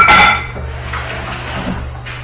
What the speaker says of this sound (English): Quickly rinse my hands in case I have any.